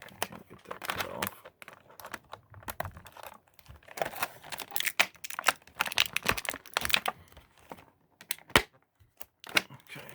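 Stiff plastic packaging around a Masters of the Universe Origins Ram Man action figure crinkles and snaps in close, irregular bursts as it is cut and pulled, while a person talks intermittently.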